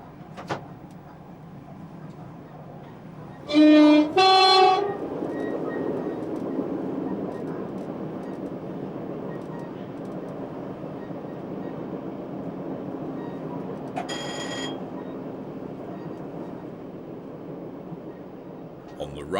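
A 1991 London Bridge to Selhurst train runs into Tulse Hill station, a steady carriage rumble near and continuous, broken around four seconds by loud bright tones and again by a brief high burst later on.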